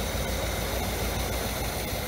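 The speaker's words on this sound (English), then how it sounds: "It runs good. Let it just idle." A car engine idles steadily and close by, a constant low rumble with a fairly loud even drone throughout and no talking.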